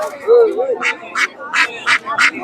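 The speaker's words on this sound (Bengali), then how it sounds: "এগুলো চীনা হাঁস।" Chinese ducks at a rural poultry market in Nazirpur bazaar quack loudly and close by, five sharp calls in a steady rhythm, with a voice speaking near the start.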